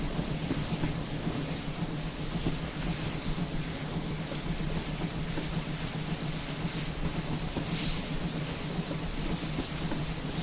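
A four-coach train in Train Simulator 2017 pulling away slowly, a steady droning engine rumble with a low hum and rolling noise that stays even and loud throughout, no clear rise in pace.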